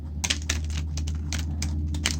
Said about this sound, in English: Spirit really wanted me to shuffle the cards today.